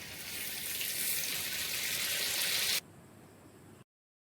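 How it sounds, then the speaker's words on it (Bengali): Prepared spice paste hitting lightly browned frying onions for street-style egg chowmein, a loud, even sizzle that holds for a few seconds before abruptly dropping to a faint hiss and stopping. "পেঁয়াজগুলো হালকা লাল লাল করে ভেজে নেওয়ার পরে যে মশলাটা বানিয়ে রেখেছিলাম সেটা দিয়ে দিচ্ছে মা"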